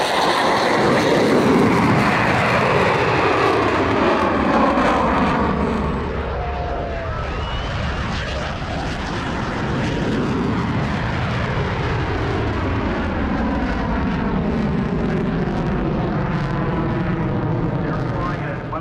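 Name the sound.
FA-18 Super Hornet jet engine on takeoff at air show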